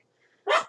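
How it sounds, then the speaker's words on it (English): A pet dog named Max gives a single short, sharp bark close by in an otherwise quiet room, preceded by a faint low murmur. "I'm sorry that my dog was barking in the background right there"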